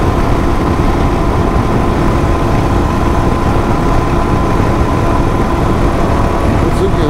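Royal Enfield Himalayan motorcycle engine running steadily while riding on back country roads, a constant loud drone with wind rush and no break, with someone talking over it.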